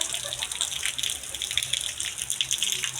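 Heavy rain pours down steadily outdoors over farm fields, a dense broadband hiss of falling water that holds constant throughout without pause, with no voices.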